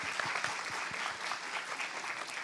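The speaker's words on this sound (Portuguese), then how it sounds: "Uma salva de palmas para vocês" A crowd gives a warm round of applause for the audience at a city gathering, a continuous, fairly distant patter of many hands clapping with no speech over it.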